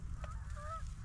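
Geese honking as they fly in to land during a Pennsylvania winter goose hunt, a couple of clear nasal honks at moderate distance over a steady low rumble of wind.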